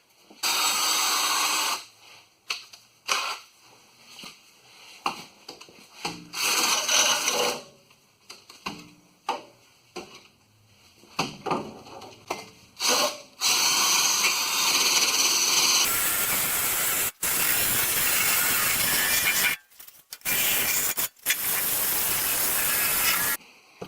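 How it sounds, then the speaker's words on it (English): A harsh, loud abrasive whir of a drill-mounted paint remover wheel stripping a rusted 2008 Ford F-150 frame comes in bursts of grinding against metal, starting and stopping repeatedly, then running longer and steadier. "I got a paint remover for the drill"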